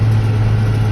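Case IH 7230 tractor engine running with a steady low, loud drone, a brief continuous stretch with no talk.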